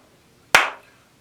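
A single sharp hand clap rings out alone in a quiet room, marking one beat of a steady quarter-note pulse, with a short decaying tail.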